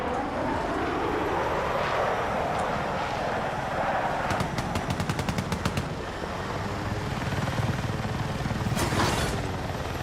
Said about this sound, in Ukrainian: Це на мене літак упоровся